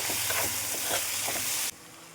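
Tomatoes sizzle in a pan with turmeric and salt, a dense near crackle broken by soft rhythmic stirring strokes, then the sound drops suddenly to a faint hush.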